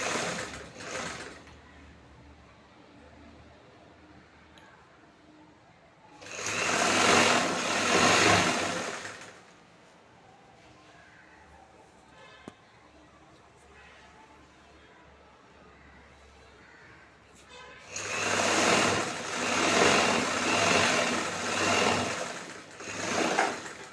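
Sewing machine running in two loud bursts of stitching along the folded edge of a cloth piece for a chudithar bottom, with a quiet pause between them; no talk.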